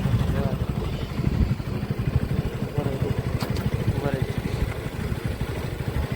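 A motorcycle engine rumbles steadily throughout, loud and close, with a constant throbbing drone and no clear pauses.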